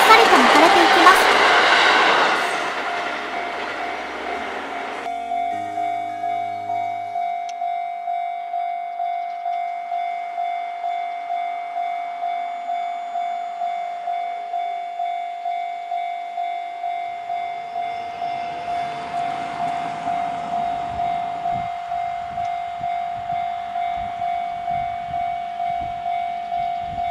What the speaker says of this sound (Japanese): 17時58分頃に木曽川駅を発車していきます。